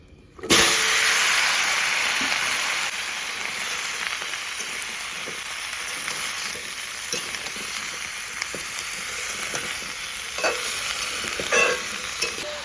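Cumin seeds sizzling in hot oil left from frying fish, a loud steady hiss that bursts in suddenly and continues throughout with faint stirring clicks, no voices.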